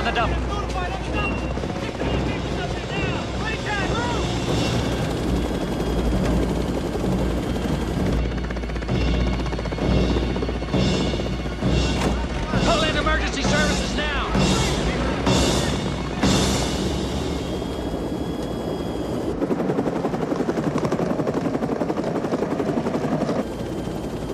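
In a film, a helicopter's rotor thrums loud and close throughout, with bursts of crashing or gunfire-like impacts in the middle and voices heard over the engine noise.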